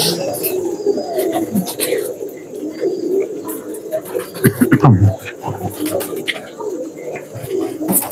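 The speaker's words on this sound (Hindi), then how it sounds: "ये लाल फनियर कबूतर है" A red phanair pigeon coos low and close over a dense chatter of other birds, with someone talking in the background.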